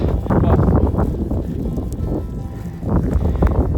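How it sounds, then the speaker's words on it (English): Strong gusting wind during a Rocky Mountain March blizzard roars and buffets close to the microphone in a dense, rumbling wash, swelling and easing briefly before surging again. "and the wind's picking up."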